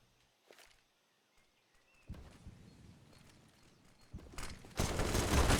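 CZ pistol gunfire crackles in a Counter-Strike match on Inferno, starting as faint scattered shots and building into a dense, loud burst of rapid fire toward the end, with no talking.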